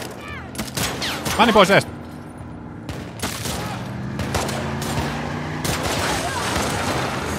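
Bursts of gunfire ring out in The Last of Us Part II, with a loud rapid volley early on, then scattered shots and echoing booms that carry on under a player talking over the action.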